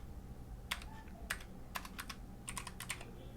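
Python code being typed on a computer keyboard: quick, crisp keystrokes arriving in short irregular bursts, close and fairly quiet, with no voices.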